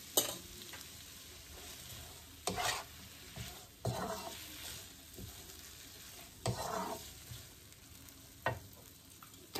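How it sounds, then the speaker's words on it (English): Tomatoes cooking in a pan with added salt give a steady, soft sizzle, broken by several louder bursts of stirring and scraping spread through the stretch, close and fairly quiet, with no talking. "So while the tomato is cooking, we are going to add a salt"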